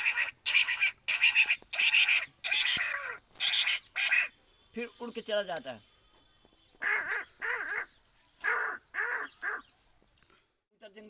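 A voice mimics a crow cawing in a series of sharp, rhythmic bursts, with a brief stretch of Hindi speech in the middle before the caws resume.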